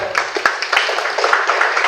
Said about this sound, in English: Please give applause to Professor Ganchar.